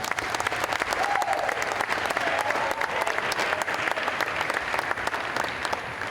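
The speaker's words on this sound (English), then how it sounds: "Please give Don a round of applause" A crowd applauds at a high school Wall of Honor ceremony, a sustained, even roar of clapping hands with sharp individual claps scattered through it at moderate loudness.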